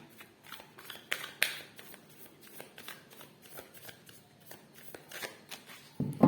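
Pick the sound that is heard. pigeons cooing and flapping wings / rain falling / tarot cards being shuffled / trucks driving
tarot cards being shuffled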